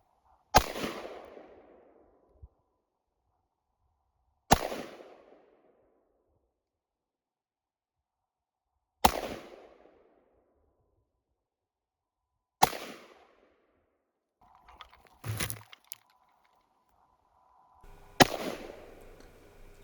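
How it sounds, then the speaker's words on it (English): Rifle gunfire outdoors in winter, six sharp, loud single shots spaced roughly every four seconds, each with a decaying echo tail, with some faint clatter between them and no talking. "I always enjoy shooting in the winter just to see the gas escape from the rifle itself."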